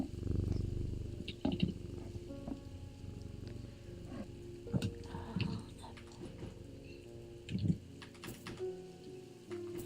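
Jupiter, a pet cat, purrs steadily and close by in a low, continuous rumble, with scattered light taps and clicks over it.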